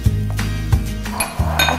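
Plates and dishes clink and knock together as they are set down, several sharp ceramic taps in quick succession, close by with a low hum underneath.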